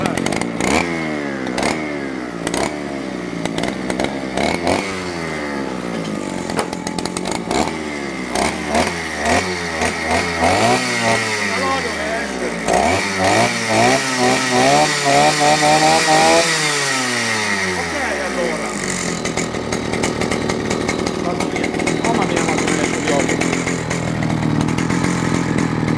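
An OM 260 chainsaw, just reassembled after long disuse, runs loud and close, revving up and down in repeated surges before holding a sustained high rasp.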